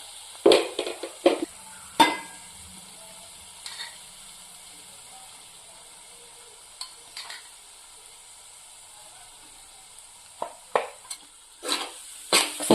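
Chili powder, turmeric and salt stirred into hot oil in a pan for a fish curry, with a quiet steady sizzle broken by scraping spoon strokes in bursts at the start and again near the end.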